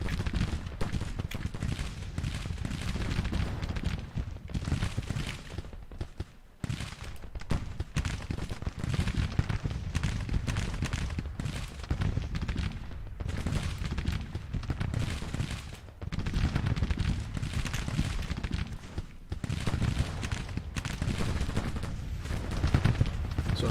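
Dense battle gunfire from the Civil War video game Grand Tactician at Gettysburg: continuous musket volleys and crackling fusillades mixed with booming artillery, loud and unbroken for the whole stretch with no talk.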